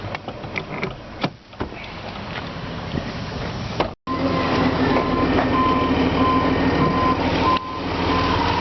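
A 2005 Dodge Grand Caravan's 3.3-liter V6 runs with the hood open, a steady close rumbling drone with a few knocks early on and a brief cutout midway before it resumes.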